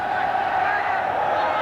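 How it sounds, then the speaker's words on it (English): Crowd at a 1990 Commonwealth Bank Cup rugby league match chanting "Fairfield", a steady, dense wash of voices filling the ground with no breaks. "The chant goes up, Fairfield."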